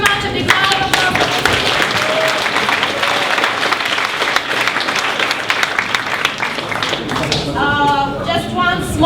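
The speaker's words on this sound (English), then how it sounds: "A big round of applause." A room full of people breaks into steady, loud applause after a talk, dense clapping filling the whole stretch with some voices mixed in and a few louder claps standing out near the end.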